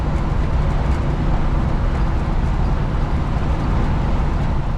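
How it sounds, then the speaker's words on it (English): Steady, loud cabin roar of a 1973 Chevy C20 pickup cruising at constant speed and RPM, a dense low rumble of engine and road noise running unbroken throughout with no voices. "I have to talk pretty loud over how loud it is in the truck"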